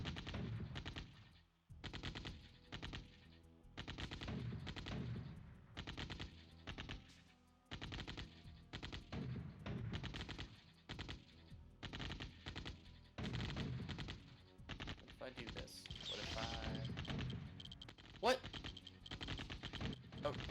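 Rapid bursts of minigunner machine-gun fire in the Command & Conquer video game, repeated volleys in a steady rhythm with brief gaps, loud and dense throughout, with a voice talking over parts of it.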